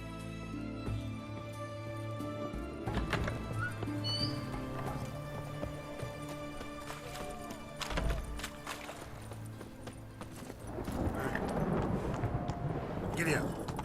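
A horse gallops and clip-clops steadily through The Witcher 3, hooves drumming over a busy game soundscape that swells louder near the end.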